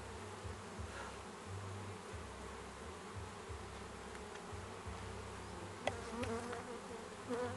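Honeybees buzz steadily around an open hive during a brood inspection, with a dense, close, low drone and a few brief knocks near the end; no voices.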